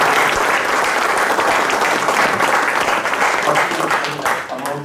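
Audience at a regional refresher course programme giving a round of applause, a thick steady wash of many hands clapping that holds for several seconds and tapers slightly at the end.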